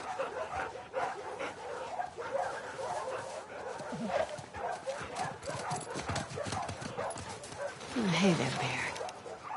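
Dog barking in the video game The Last of Us Part II, a few short barks mixed with hoof clip-clop and game ambience while someone talks over it.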